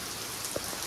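A sudden rain shower falls outdoors, a steady, even hiss of drops on surfaces with one brief louder patter near the end.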